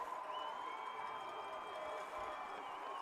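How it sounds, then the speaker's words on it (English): Stadium crowd noise at a high school football game between Atlantic Shores and North Cross at Sportsplex Stadium, a steady, dense roar of cheering fans holding level throughout, with a faint whistle-like tone running over it. "you can hear the Seahawks crowd right now just getting behind their team"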